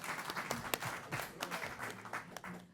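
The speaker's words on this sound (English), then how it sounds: "The clap should be for me." Faint audience clapping at a panel discussion on a Chopin-themed piece: a scattered patter of individual claps, soft and fairly distant, with no talking over it.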